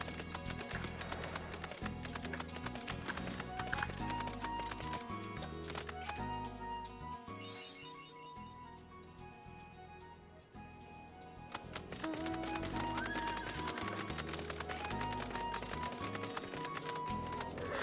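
Horse hooves galloping in Final Fantasy XIV, a steady rapid clip-clop running under layered game music, with a brief lull partway through before the hoofbeats and music pick up again.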